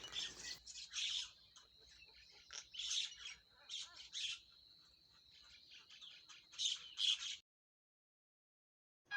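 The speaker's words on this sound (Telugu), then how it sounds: "గోరింక" A common myna gives harsh, repeated squawks and chirps at a steady pace for about seven seconds, fairly faint and with a thin ringing tone behind them, then stops.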